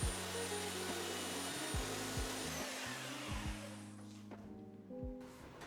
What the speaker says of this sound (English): then I went at it with the belt sander